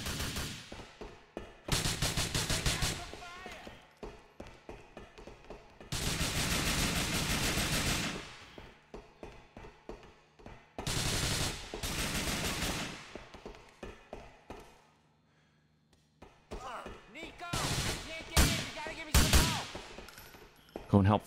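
Bursts of video-game gunfire in a livestreamed shooter match, loud clusters of rapid shots separated by quieter gaps, with players talking over and between the volleys.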